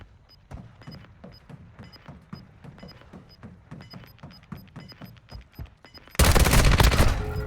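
Rapid gunfire in the video game Warzone Mobile, a steady patter of shots with quieter thuds, ending in a sudden loud, sustained blast.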